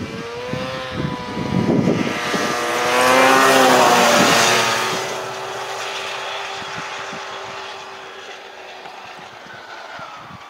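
A snowmobile races past at about 80 km/h, its engine whine rising sharply in pitch and loudness as it nears, then falling away and fading into the distance.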